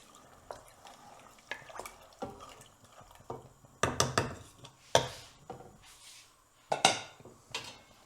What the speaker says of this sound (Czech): A přidáme bobkový list, trochu feniklu a kurkumu. Takhle zamícháme.